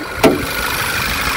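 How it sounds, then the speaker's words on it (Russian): A Volkswagen Passat B7 with a 1.8 TSI engine idling smoothly up close, a steady low hum with a brief sharp click near the start. "Мотор работает идеально."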